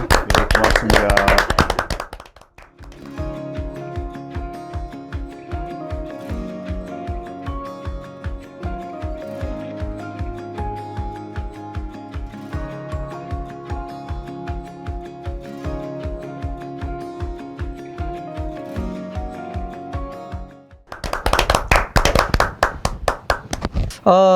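An audience at a Korean talk event on labour issues claps in a loud burst at the start, then a steady, rhythmic music bed plays for about eighteen seconds before a second burst of clapping rises at the end.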